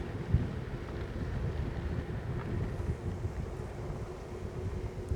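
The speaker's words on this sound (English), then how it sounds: "It's windy. My hat's about to get blown off." Strong wind buffets the microphone in a constant low roar, gusting unevenly throughout with no voices.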